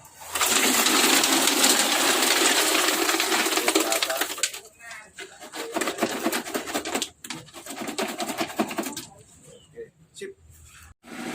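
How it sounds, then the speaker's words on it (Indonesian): Birds kept by a business owner in Indonesia call and coo, with busy chatter thick at first and then thinning to scattered calls and pauses, while people talk nearby. "Dia ditemenin burung-burung."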